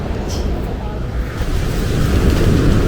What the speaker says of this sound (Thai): ลมแรงมา